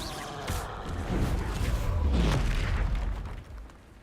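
A Confringo fire spell detonates in Hogwarts Legacy with a deep, rumbling boom that swells over several seconds and then fades, loud and close, with no talk over it.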